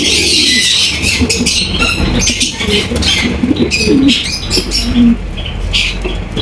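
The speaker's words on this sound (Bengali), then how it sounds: "কোয়ালিটি ফুল কবুতর দেখেন" Pigeons kept for sale coo in low, rolling calls throughout, with occasional chirps and wing flutters over a dense, noisy background.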